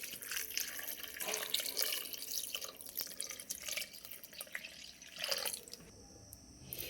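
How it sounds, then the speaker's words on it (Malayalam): A litre of water pours into a pressure cooker holding grated beetroot, splashing and gurgling unevenly with dripping bursts, fairly soft and close, without speech. "ഇനി ഇതിലേക്ക് നമുക്ക് 1 ലിറ്റർ വെള്ളം ഒഴിച്ചു കൊടുക്കാം."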